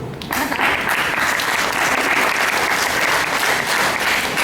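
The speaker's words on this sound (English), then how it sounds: "Can I just applaud you," School students in a classroom or hall burst into steady, loud applause that starts abruptly and continues evenly as a dense crowd clap, with no speech over it.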